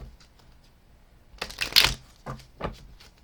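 A deck of cards being shuffled, a quick riffling burst in the middle followed by a couple of softer card taps, close by with no talking.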